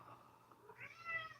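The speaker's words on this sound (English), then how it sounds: "That's my cat." Katina, a pet cat at home, meows during a relaxed Sunday live stream. Two short, fairly close calls come in quick succession toward the end, rising over soft room noise.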